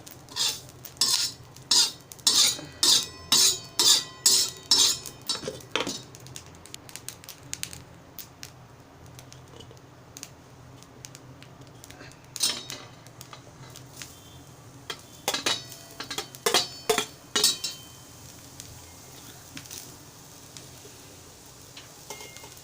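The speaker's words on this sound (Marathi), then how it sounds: "ओलं खोबरं काढून घेत आहे" Fresh coconut being scraped for a Malvani egg curry, heard as bursts of rhythmic scratching strokes at close range, a steady run of them, a pause, then a second run, with no talking.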